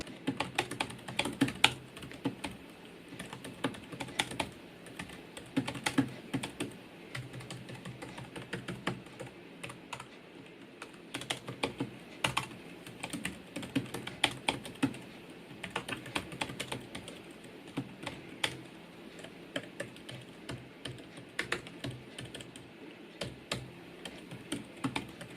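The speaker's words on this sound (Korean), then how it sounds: "실제 타건 테스트를 해보면 조용하고 부드럽게 눌러지는 키압이 저에게는 굉장히 편하게 다가왔습니다" Continuous typing on the keyboard of a Gigabyte AERO 15 SB gaming laptop, soft, quiet keystrokes clicking in a steady, irregular patter close up, with no voices.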